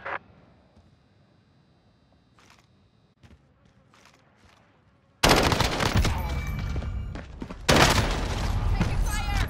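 Video game firefight in an online shooter match: after a quiet stretch with faint clicks, sudden loud, dense bursts of automatic gunfire and explosions erupt close up and keep pounding, with voices talking over the action.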